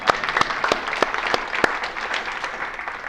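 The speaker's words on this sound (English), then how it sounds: "Everyone give a round of applause for my help from the audience." Audience at a data science talk claps in a moderate round of applause, with sharp separate claps standing out over a steady patter, close and without talk.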